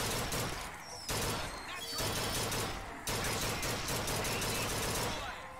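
Dense, continuous video game gunfire and explosions from BioShock Infinite fill the mix in loud, unbroken waves with brief dips between bursts.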